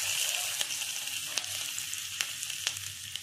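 Mustard seeds, asafoetida and green chili paste frying in hot oil for moong dal, giving a continuous close sizzle with sharp crackles and pops spaced through it.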